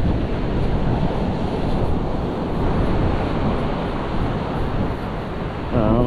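Strong wind buffets the microphone on a beach during metal detecting for old coins, a steady loud roar mixed with crashing surf that continues throughout, with no one speaking.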